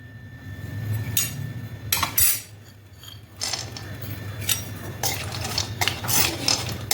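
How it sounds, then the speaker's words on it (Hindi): Cashews roast in desi ghee in a pan over low to medium flame, with repeated scraping and clinking of a spoon stirring against the metal pan in irregular bursts over a low background hum. "हमारे पास जो काजू हैं उनको डाल देंगे और लो टू मीडियम फ्लेम पर रोस्ट करके हम इनको तैयार कर लेंगे।"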